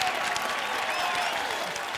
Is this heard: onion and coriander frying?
no